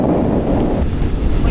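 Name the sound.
strong wind blowing into microphone, Ruta 40 Patagonia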